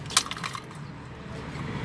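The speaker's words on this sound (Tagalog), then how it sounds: "So on natin yung susi." A motorcycle's ignition key is turned during headlight wiring work, making a single brief metallic jangle-click near the start, followed by quiet room ambience.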